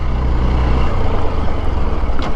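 A Hero Xpulse 200 4V motorcycle engine thrums loud and close, its low drone dropping and changing character midway as a gear is shifted, with the clutch slipping in third, amid wind rush.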